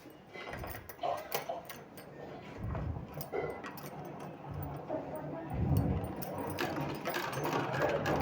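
A sewing machine stitches a folded fabric sleeve, running in faint, short, intermittent bursts of quick mechanical ticking, with quiet pauses between.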